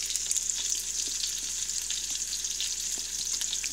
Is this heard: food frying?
yes